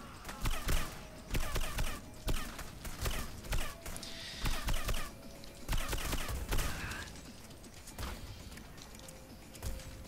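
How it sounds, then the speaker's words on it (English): Enemies fire at the player in Hitman: Blood Money, with bursts of gunfire in irregular volleys, some rapid and automatic, overlapping with game effects at a steady moderate level. "All these people are shooting at me, and I am running around in circles"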